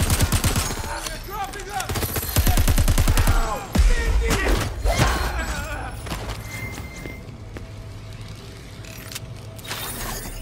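Machine pistol fire in Crackdown 3 comes in rapid, loud close-range bursts over the first few seconds, then gives way to scattered clanks and a lower rumbling battle backdrop.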